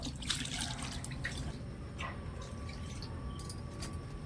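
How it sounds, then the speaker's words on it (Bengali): Water rinses chhana held in a white cotton cloth, a soft, steady trickle with scattered drips, close by and fairly quiet. "এবার আমি উপর দিয়ে একটু জল দিয়ে ভালো করে ছানাটা একটু ধুয়ে নেবো"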